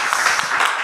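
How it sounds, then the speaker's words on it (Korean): An audience at a church lecture on evangelical mission theology gives dense, continuous applause that is loud and close and lasts under a second. "여러분 다시 한번 큰 감사의 박수 한번 보내주시면 좋겠습니다"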